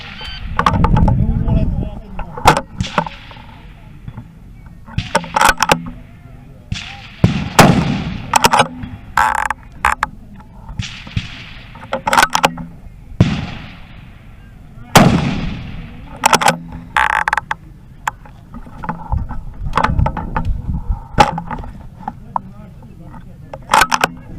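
Rifle shots fired during a PRS precision rifle match stage at the MPA Fall Shootout, loud sharp cracks spread irregularly across the stretch, some with rolling echo, over outdoor wind noise with occasional voices.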